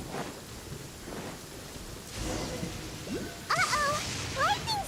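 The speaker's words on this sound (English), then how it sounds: "Uh-oh! Lightning storm!" A lightning storm in the video game Genshin Impact brings steady rain and low thunder rumbling underneath, while someone speaks over it and brief game effects chirp near the end.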